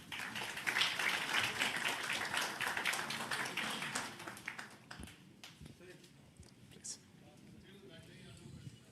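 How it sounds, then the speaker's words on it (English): An audience claps at a Google and Andhra Pradesh government MoU event, with dense applause filling the hall for several seconds and then thinning to scattered claps as the noise settles. "Let's give a big applause to this forum."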